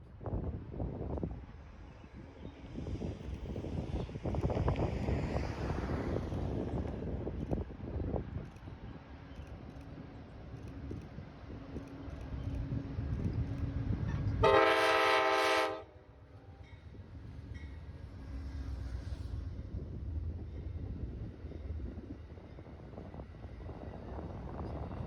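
A delayed Amtrak train rolls past Alto Tower at milepost 237 in Altoona, a steady rumble with wind buffeting the microphone, broken midway by a loud horn blast of about a second before the rolling noise carries on.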